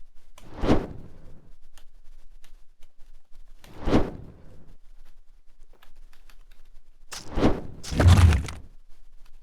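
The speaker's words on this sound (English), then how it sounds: "There's a nice little explosion." Explosion effects in the dungeon game ToME: three short bursts with sharp attacks and quick decays, the last one a louder, longer crash with a deep low thud, among faint clicks.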